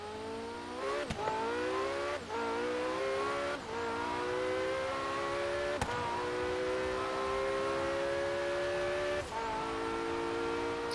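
Porsche engine accelerating through the gears in a Forza Horizon 3 drag race, a loud rising whine that drops sharply at each of several evenly spaced gear changes, then climbs again, alone without talk.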